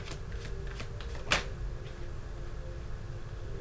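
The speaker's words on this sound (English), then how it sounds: "I'm just shuffling a little bit more." Soft riffling of tarot cards being shuffled, with a few light flicks and one sharper snap, close up over a low background hum.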